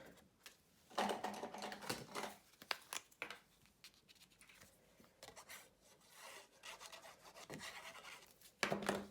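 Card background being pressed and rubbed down onto a pastel card, a series of close, soft rasping and rubbing strokes in uneven bursts with short pauses between.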